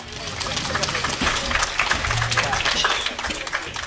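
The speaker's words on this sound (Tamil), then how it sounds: "ஒரு கைதட்டு கொடுக்கலாம்." Applause from an audience for a comic performer at a Tamil stage show: steady, dense clapping running the whole time, fairly loud, with a voice talking over it.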